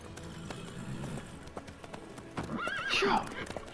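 In The Witcher video game, hooves clop briskly nearby, then a horse lets out a sharp, high whinny near the end.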